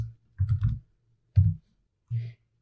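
Typing on a computer keyboard, heard as a few short bursts of clacking keystrokes separated by brief pauses, close and clear in a quiet room.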